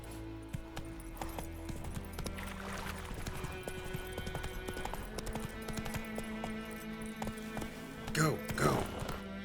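Roach the horse gallops in The Witcher 3, with rhythmic hoofbeats thudding steadily beneath game music and a brief voice, and a louder burst near the end.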